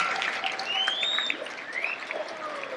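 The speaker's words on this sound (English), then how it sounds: "So please join me in a loud round of applause for Army Dad" An audience at a school community salute event claps in a dense, continuous round of applause, moderately loud and steady throughout.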